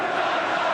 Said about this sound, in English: I wonder how it'll affect him, this constant booing.